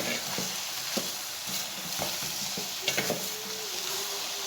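Eggplant and potato fry in masala, giving a steady sizzle broken by spoon scrapes and stirring clatters against the pan, close and fairly quiet, with no talk.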